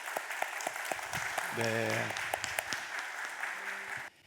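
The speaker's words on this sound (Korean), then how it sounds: "박수." Applause from a church congregation at a Sunday service swells briefly and stays moderately loud, with a voice speaking over the clapping.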